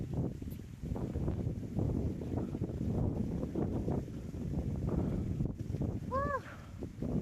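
Steady wind on a mountain climb at Mt. Mambutig, Tarragona, Davao Oriental, buffets the microphone in a low rumbling roar throughout, with a brief high whistle-like tone near the end.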